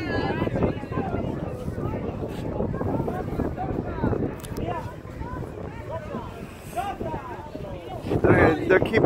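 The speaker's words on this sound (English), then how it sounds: "Go down there if the wind is bothering you." Strong wind buffeting a microphone outdoors, a continuous rough rumble with gusts, under frequent overlapping voices talking nearby.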